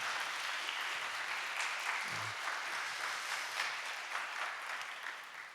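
A congregation at a combined worship service gives sustained applause, many hands clapping in an even, moderately distant wash that holds steady for several seconds without speech.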